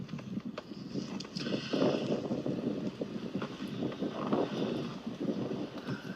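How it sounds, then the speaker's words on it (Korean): Steady wind rushing and buffeting on a snowy mountain trail on Sobaeksan, South Korea, a continuous low roar with gusts swelling and easing, no voices. "여기서부터 살짝살짝 바람 소리가 들리기 시작합니다"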